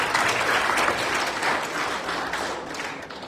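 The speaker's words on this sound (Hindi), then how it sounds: "एक बार जोरदार तालियां" Audience applause at a memorial commemoration event honouring children's participation, a crowd clapping steadily and fairly loudly for a few seconds, slightly uneven in intensity, with no speech over it.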